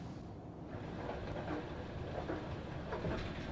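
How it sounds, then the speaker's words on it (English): An airport shuttle train pulls away inside a terminal during lockdown, a faint, continuous rumble with light rattling and rolling noise building slightly over a few seconds, with no talk. "Train is departing. Please hold on to the handrails."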